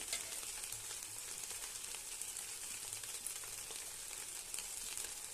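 Cumin powder frying in a pan for a vegetarian pulao, a steady soft sizzle with faint stirring, continuous and fairly quiet with no voices.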